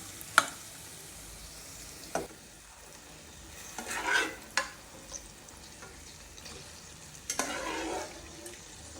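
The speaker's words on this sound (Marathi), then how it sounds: "आपण हलक्या हाताने छान प्रकारे मिक्स करून घेऊ आणि एक दोन एक मिनटं ते राहू देऊ तसंच मसाल्यामध्ये" Boiled drumsticks and potatoes are stirred into frying masala over low heat, giving soft intermittent scrapes and light sizzling bursts of spoon against pan, close and alone.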